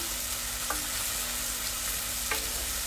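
Onions, ginger, turmeric and chili powder sautéing in a pan, a close, constant sizzle with two quick scraping strokes of a spoon stirring through it.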